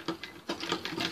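A sewing machine stitching the collar of a sherwani gives a few quiet, quick rattling bursts of needle strokes with brief pauses between them.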